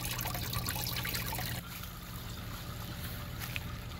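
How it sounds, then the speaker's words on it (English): Fresh water pours steadily into a tadpole tank, a continuous close trickle and splash that drops slightly softer partway through as the flow settles. "Time to put new water in"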